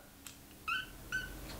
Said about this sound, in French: Et souvent elle miaule quand on fait ça.